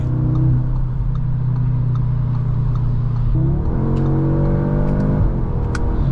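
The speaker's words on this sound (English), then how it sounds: "That gets up to speed incredibly quickly actually for this little hot Audi." A 2025 Audi S3 with a dual clutch gearbox launches hard on launch control, the engine droning loud and steady close up before a quick shift and a rising pitch as it pulls.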